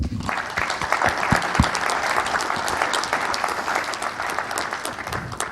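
An audience at the PGDay France 2026 conference applauds its sponsors, a steady, fairly close wash of many hands clapping that holds throughout, with a few sharper individual claps standing out.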